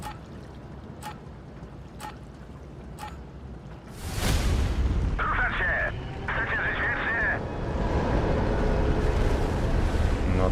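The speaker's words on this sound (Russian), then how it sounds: "Ну, вот система залпового огня отработала." In the Tanks Blitz tank video game, a multiple rocket launcher fires, and a sharp burst gives way to a sustained roaring rush of rocket noise after a few faint ticking clicks.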